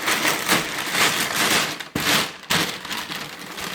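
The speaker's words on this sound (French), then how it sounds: "J'enlève le scotch." Crackling, ripping packing tape being pulled off a Lexmark MX310dn laser printer in a few long strips, close and loud, with brief pauses between pulls.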